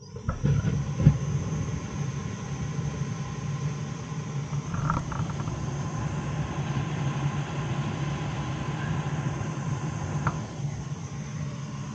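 A steam boiler burner igniting with a brief thump, then settling into a steady low roar and hum that runs continuously in a mechanical room, fairly loud and close, with no talk.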